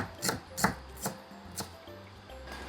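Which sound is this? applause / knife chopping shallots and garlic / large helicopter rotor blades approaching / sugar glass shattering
knife chopping shallots and garlic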